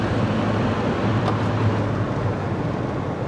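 Inside a GTI 16-valve car with a naturally aspirated engine while driving, a steady, loud engine drone blends with broad road and wind noise, holding nearly constant from start to finish.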